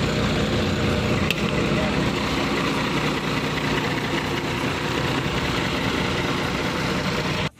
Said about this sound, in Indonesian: Jadi mesinnya ini menggunakan Hino 260